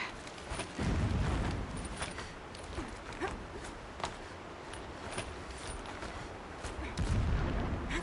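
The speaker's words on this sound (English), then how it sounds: "Explosions in the distance." Distant explosions and gunfire-like booms rumble in the video game Horizon Zero Dawn, a few heavier thuds standing out over a continuous noisy battle backdrop.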